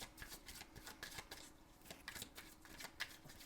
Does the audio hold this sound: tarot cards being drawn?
yes